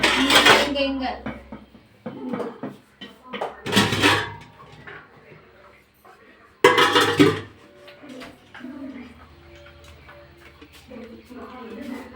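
Clattering handling of a cooking pot while ragi flour kali is prepared, with loud metallic knocks and scrapes in bursts, separated by quieter stretches and a voice talking.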